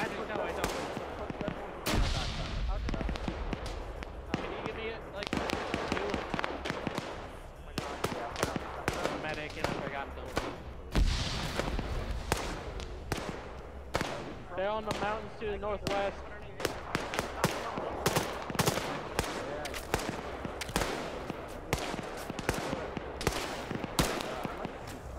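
A grenade detonates in a team-based shooter game, one heavy blast standing out among frequent gunfire, impacts and other battle noise, with players talking throughout.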